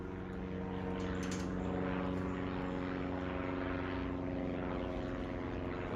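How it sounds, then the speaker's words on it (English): A light propeller airplane passes overhead as a steady, loud droning buzz with a constant engine tone, sustained throughout and without talk. "We got another airplane going over now."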